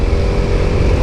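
A Vespa 300 GTS scooter rides through city streets, a loud, close, continuous engine drone with a rough, pulsing low rumble for about a second, with no talking.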